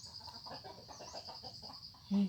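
Chickens fighting and clucking nearby in a short burst of fowl calls, with a louder thump or cluck near the end.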